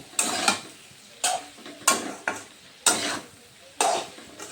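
Mixed vegetable pickle being stirred after ground mustard goes in, six distinct scraping strokes of a spoon through the thick mixture, each a sharp swish that fades, evenly spaced, close and clear with no talking.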